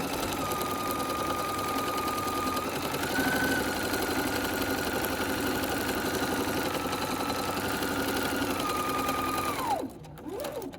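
A sewing machine runs a steady, close, continuous stitching whir along a cushion seam, then slows and stops near the end.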